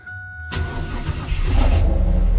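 A car engine cranks briefly and catches, then settles into a steady, close running rumble that grows slightly louder, heard alone without talk.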